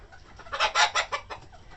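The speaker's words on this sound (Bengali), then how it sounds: "এই যে আমাদের মুরগি আছে" Chickens cluck in a short burst of several close, fairly loud calls at a poultry seller's market stall, with faint background noise and no talking.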